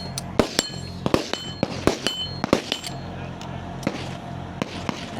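Biathlon target shooting, a series of sharp cracks spaced irregularly with metallic clinks of targets being hit, close and punchy, mixed with a commentator talking.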